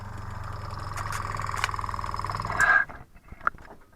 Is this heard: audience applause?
no